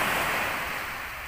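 Sea surf rolling onto a sandy beach at night, a continuous loud wash of breaking waves close by, with no voices.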